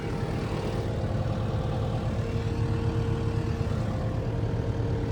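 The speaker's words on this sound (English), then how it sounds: "It runs real good. No abnormal noises we can hear from the engine." A 2019 Kubota SVL95-2S high-flow skid steer on Z-tracks runs its engine at a steady, close idle, with a low throbbing hum and no other sounds over it.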